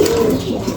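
A pigeon, one that has lost a leg, coos in a low, steady throaty warble for under a second, close and fairly loud, with a faint flutter of other birdsong behind it.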